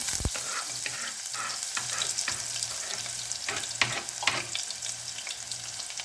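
Close-up sizzling of chopped garlic frying in hot oil, a steady crackle with occasional sharper pops and the scrape of stirring.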